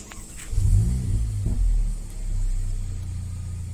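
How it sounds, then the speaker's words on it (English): A Mercedes-AMG GLA engine turns over and catches, a low rumbling start that settles into a steady, close idle. "I'll just start the car up."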